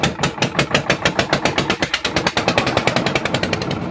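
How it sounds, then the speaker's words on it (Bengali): A motor boat engine on a mangrove boating trip chugs with rapid, even pulses after starting, loud and close, a steady mechanical knocking that keeps running throughout. "আচ্ছা এই তো মেশিন স্টার্ট দিচ্ছে।"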